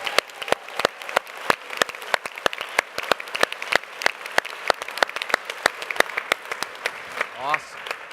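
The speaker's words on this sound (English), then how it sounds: "A round of applause for all of our awardees." Sustained applause from an audience at a health prize award celebration, dense clapping running steadily throughout with a brief voice near the end.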